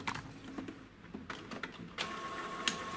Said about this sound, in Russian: Все, принтер бумагу взял и печатает у нас тест.